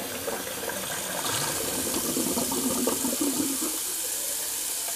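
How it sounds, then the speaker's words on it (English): Water swirls and gurgles steadily as a bathroom sink drains, a continuous close wash of running water with faint mechanical rattles mixed in. "what I'm going to do is I'm going to drain my sink"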